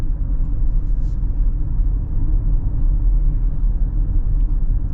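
A 2025 Toyota Highlander rolls along the road with a steady, loud low rumble from tires and cabin, continuous and even throughout without talking.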